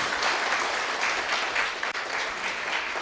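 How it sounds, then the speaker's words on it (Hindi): An indoor audience claps together in a dense, continuous round of applause at fairly close range, with no speech over it. "सब के लिए एक बार ताली बजा दो।"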